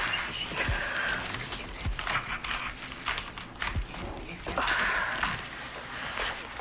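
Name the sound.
dog whimpering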